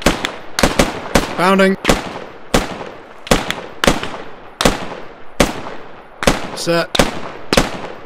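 Gunfire during a squad bounding drill: loud, sharp single shots crack out at uneven intervals, close by, with short shouted commands heard between them.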